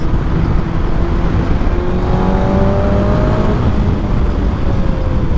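A motorcycle is ridden at a steady pace, its engine droning continuously beneath heavy, loud wind rush, with faint shifting tones drifting up and down as the revs change.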